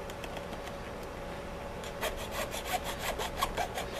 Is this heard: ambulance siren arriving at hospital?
no